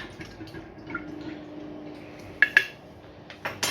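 Spoon stirring sugar and grated ginger into a ginger bug jar, soft swishing and then two crisp clinks against the glass, with another tap near the end.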